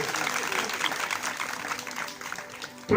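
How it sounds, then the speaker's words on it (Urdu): A church congregation claps loudly in a dense burst of applause that gradually thins over a few seconds before a sharp sound cuts in at the end. "آئے زوردار تالیاں خدا کے جلال کے لیے"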